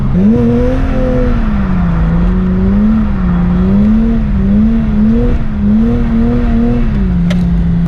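A car engine hums loudly and continuously from inside the cabin while driving around a roundabout, its pitch rising and falling in gentle waves as the throttle is eased on and off.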